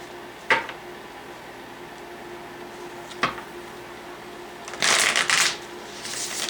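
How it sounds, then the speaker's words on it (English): Tarot cards being shuffled by hand, with two short riffles followed by a longer burst of shuffling, close and crisp in a quiet room. "these cards don't want to shuffle too much tonight"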